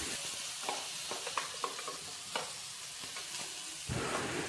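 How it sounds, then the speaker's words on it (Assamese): Pointed gourd paste frying on a hot tawa griddle, a steady soft sizzle with scattered scraping stirs and taps, moderately close and without talk. "গৰম হৈ গৈছে এতিয়া পেষ্টখিনি দি দিম ডাইৰেক্ট তাৱাত।"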